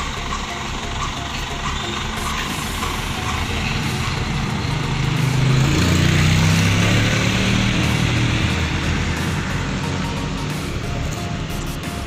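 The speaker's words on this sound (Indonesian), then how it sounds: "ini truk yang pertama, ada truk plat R atau plat T" A truck rolls past on a busy road, its broad engine rumble swelling to a peak midway and then fading, set against steady traffic noise with no talk.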